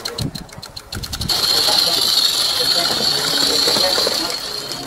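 Railway locomotive running light engine toward the engine shed, a loud steady mechanical roar and hiss that swells after a brief clattering start, with a voice briefly heard early on.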